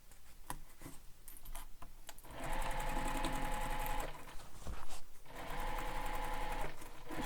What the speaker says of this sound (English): It's just the lining that we're sewing right now